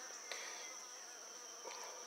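Honey bees buzz around a queen rearing colony in a faint, continuous drone, with a few brief louder passes as individual bees fly close, and no voices present.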